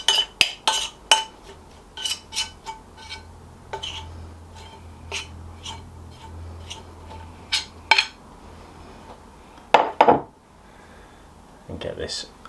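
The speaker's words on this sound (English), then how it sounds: "Get it all off the spoon. And then I just want to get it all off the bowl." Spoon scraping brioche dough for hot cross buns from a mixing bowl, with repeated clinks and scrapes of metal against the bowl, close and intermittent, while a person talks.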